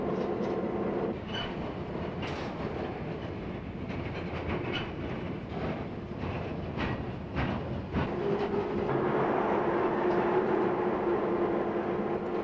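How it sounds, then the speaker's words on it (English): Freight train hauled by powerful locomotives rolling past, a steady loud rumble of railcars with clickety-clack wheel sounds and occasional metallic squeals, continuous throughout. "Powerful locomotives can pull freight trains with hundreds of cars."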